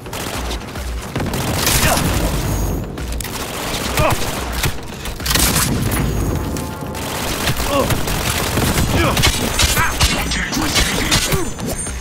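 Gunfire in the video game Cyberpunk 2077, with dense bursts of shots and crashes running almost without pause, loud and close, while someone talks over the action.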